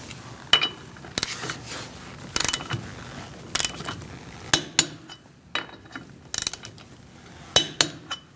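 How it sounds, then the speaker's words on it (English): Torque wrench tightening wheel lug nuts with a 19mm socket on a 2016-2019 Chevrolet Cruze, giving a series of sharp metallic clicks and ratcheting clunks at irregular intervals, close by, with quiet gaps between. "Using a 19mm socket, we're going to torque our wheels to 100 foot-pounds."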